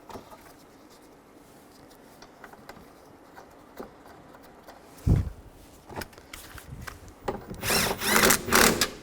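Mirror nuts are tightened on the door of a 1999-2006 Chevrolet Silverado, with quiet handling clicks followed by louder bursts of a power tool whirring near the end.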